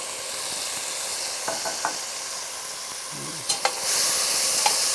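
Cold diced tomatoes dropped into a hot pan with the heat turned down, a steady broad sizzle with a few light clinks, no voices.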